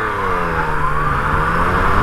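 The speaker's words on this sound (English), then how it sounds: "Even the stock exhaust doesn't sound too bad." A 2020 Yamaha MT-09 motorcycle with its stock exhaust is heard while riding, a close, steady engine drone with a slight rise in pitch as it pulls, with no voices.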